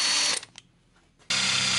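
A power drill bores through a car's front mud flap, loud and close, whining steadily, dropping off briefly mid-cut, then surging back to full speed.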